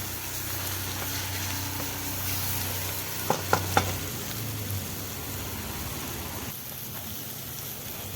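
Egg fried rice frying in a pan, with a continuous close sizzle, a short run of three sharp utensil taps against the pan midway, and a low background hum underneath.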